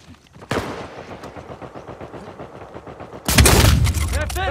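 Gunfire in an Uncharted 4 online multiplayer match: a rapid, steady string of automatic shots, followed by a louder, denser burst of heavy firing and booming near the end.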